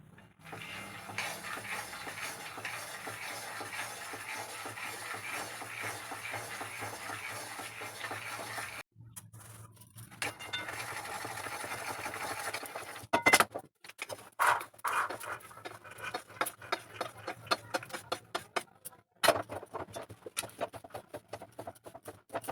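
Peanuts dry-roasting in a pan on low heat, stirred so the nuts rattle and scrape against the metal in a faint, continuous patter with irregular clinks and brief pauses.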